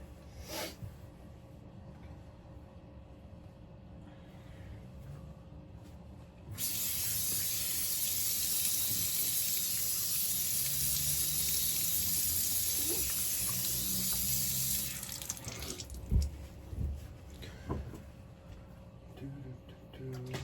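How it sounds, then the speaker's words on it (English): Tap water runs at a bathroom sink and is splashed onto the face after a shave with a stainless steel razor. A steady rushing hiss lasts several seconds, then breaks into scattered splashes and drips. "Just gonna get cleaned up here and do a little splash."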